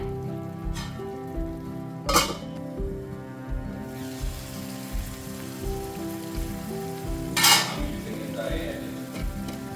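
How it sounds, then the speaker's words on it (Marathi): Cauliflower and potato sabzi (aloo gobhi) cooks gently on a low flame, giving a soft, steady sizzle throughout, broken by two brief, sharper scrapes of stirring. "मंद आचेवर हे आणखी 5 मिनिटं आपण शिजवून घेऊया."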